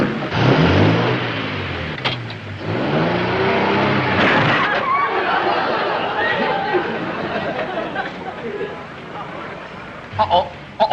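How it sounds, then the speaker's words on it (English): An old car's engine revs and pulls away at moderate volume in a comedy scene, its low rumble sweeping in pitch, with people talking over it and a few knocks near the end. "Listen to that engine purr."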